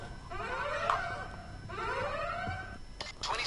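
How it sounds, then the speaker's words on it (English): An alarm in the Payday 2 video game, a rising wailing tone repeating twice in slow sweeps, moderately faint in the background. "And yeah, there goes the alarm."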